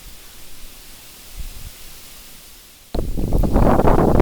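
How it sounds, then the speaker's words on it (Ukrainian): Strong wind buffeting the microphone, a low roar that surges suddenly louder partway through and stays rough and gusty. "Дуже сильний вітер"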